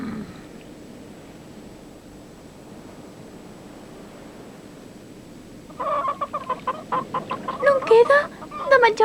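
Chickens cluck in quick, irregular bursts that start partway through after a stretch of low ambient noise, fairly close and growing busier toward the end.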